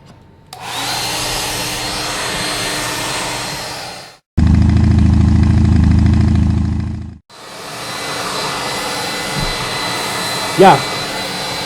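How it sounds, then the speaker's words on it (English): A hair dryer drying paint, heard as two long bursts of steady whooshing airflow with a lower, heavier hum between them, close by, with a brief voice near the end. "Hair dryer."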